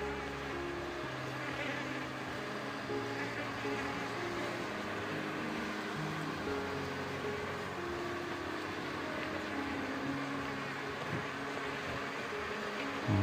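Wild honey bees buzzing steadily as they are smoked and moved into a hive box: a continuous, fairly faint drone with no clear pauses.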